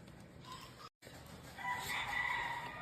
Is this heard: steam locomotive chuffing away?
no